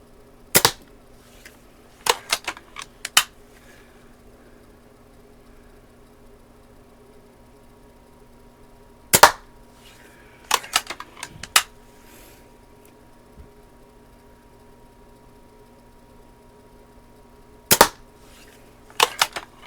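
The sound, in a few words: Daisy 299 BB gun shots at target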